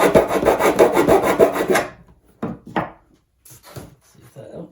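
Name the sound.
filing down a 3D-printed composite canopy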